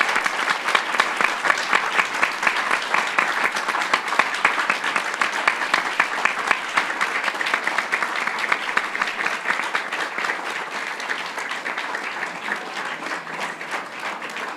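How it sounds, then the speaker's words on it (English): An audience at an art foundation event applauds the speakers with steady, loud, full-room clapping that slowly tapers over about fifteen seconds. "Give a warm round of applause for Alex"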